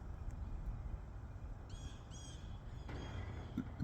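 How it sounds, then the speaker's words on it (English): Crows caw outdoors in two brief, faint bursts, partly masked by a steady low rumble of background noise. "Crow flies behind this tree."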